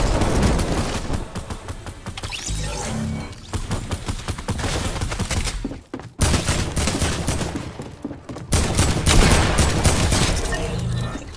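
Shotgun gunfire in a video game, a rapid series of loud, close blasts repeating through the stretch with two brief pauses, no talk over it.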